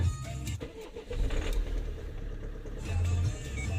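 A car engine cranks and catches at minus 8 degrees after standing nearly a week, then settles into a rough idle with a brief rev, loud and close, no talking.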